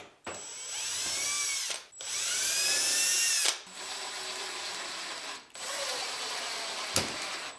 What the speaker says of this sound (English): Let me put these 2 screws in.